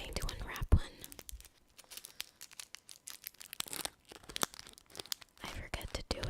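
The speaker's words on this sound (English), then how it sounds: "So we're going to unwrap one." A hard candy wrapper is slowly unwrapped close to the microphone, with bursts of crisp crinkling and tearing plastic, quiet and intimate, and soft whispering in between.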